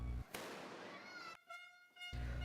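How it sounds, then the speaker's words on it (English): Fireworks and firecrackers going off at New Year's in the Philippines: sharp broadband bangs and crackling bursts echo across a noisy outdoor scene, with whistling tones between blasts. "Lots of bangs, smokes, lights, and fireworks to be exact."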